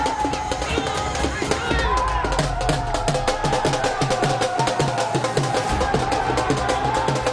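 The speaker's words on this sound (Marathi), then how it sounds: "भाजपच्या विजयानंतर कोलकात्यात भाजप कार्यालयाबाहेर जल्लोष झाला" A dense crowd celebrates a BJP election win outside the party office in Kolkata, with steady cheering and rhythmic drum-like beats throughout and loud voices under and over the noise.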